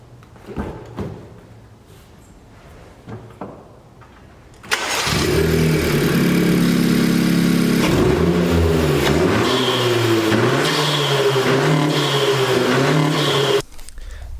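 A 2020 Honda Civic Si fitted with a PRL cold air intake cranks and fires up after a few quiet clicks, settling into a loud, steady idle with revs swelling and dipping before cutting off near the end.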